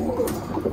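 Roller pigeons coo inside a loft in a short, soft burst of low throaty calls, close and unaccompanied by voices.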